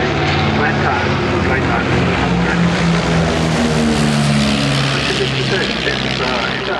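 A de Havilland Dragon Rapide propeller biplane at an airshow gives a loud, continuous engine drone with a throbbing low rumble that holds steady throughout, a commentator talking over it.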